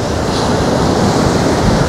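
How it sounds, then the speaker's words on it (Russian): Strong wind roars against the microphone over the loud, continuous wash of Black Sea waves close by at Anapa. "Ветер раздул прям хороший."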